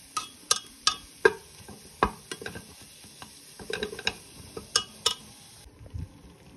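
A spoon stirs a thick mutton masala curry in a pot, giving repeated sharp clinks and scrapes against the metal over a faint sizzle, close up and without talk.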